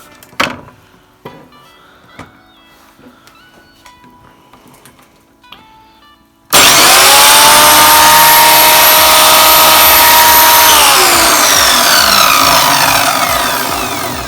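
An RZTK miter saw starting up after quiet handling noises, then a loud, close, steady motor whine that holds for several seconds before slowly spinning down, with no talk.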